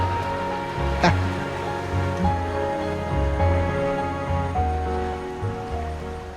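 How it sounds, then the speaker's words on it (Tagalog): Rough sea waves crash and wash steadily around a beach tent setting, a continuous rushing surf under music-like tones and occasional nearby voices talking. "Ang likot ng alon."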